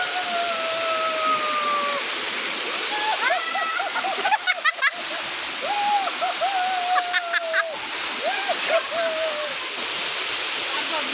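The Brahmani Devi waterfall in Odisha gives a constant loud rushing roar, with people whistling, calling and shouting over it.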